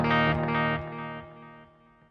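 A single electric guitar chord through a Yamaha THR amp on its crunch setting at low gain, with delay and reverb, rings out loud and then decays over about two seconds into a fading echoing tail.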